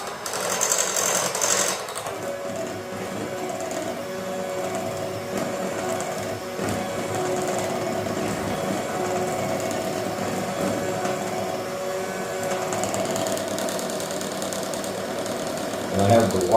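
Electric hand mixer fitted with wire whisks beating cake batter, a steady continuous motor whir running throughout, fairly loud and close, with a brief clatter at the start and end.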